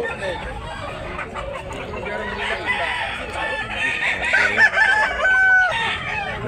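A rooster, a white Kelso gamefowl offered for sale at a market in Tabunok, Talisay, Cebu, crows several times over a busy backdrop of other fowl clucking and crowing nearby.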